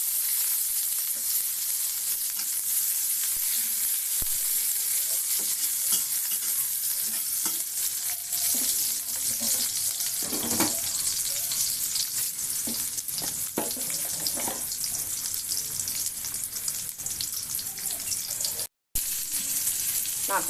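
Onion frying in hot oil with bay leaves in a pan gives a constant bright sizzle with occasional stirring scrapes, close and steady with no talking.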